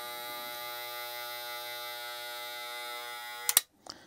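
A 100-year-old WAHL hair clipper with a magnetic motor runs with a steady, close electric buzz, then stops with a couple of clicks near the end.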